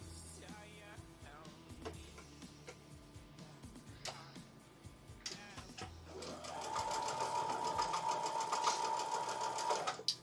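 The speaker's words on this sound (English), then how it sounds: "We are just chain piecing these half square triangles to a solid piece." Sewing machine chain piecing half square triangles onto a solid piece of fabric: scattered clicks and handling sounds at first, then a sustained fast mechanical whirr of stitching for the last few seconds, close and fairly loud.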